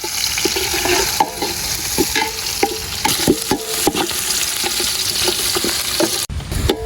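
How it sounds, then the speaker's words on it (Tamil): Onions sizzle steadily in a pan for a Tamil anchovy and potato fish curry, with repeated close scrapes and knocks of a spoon stirring them, loud and free of talk. "வெங்காயம் ரெண்டையும் போட்டு நல்லா வதக்கணும்."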